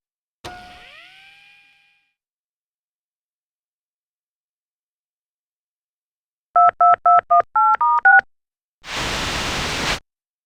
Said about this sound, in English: My new vid phone.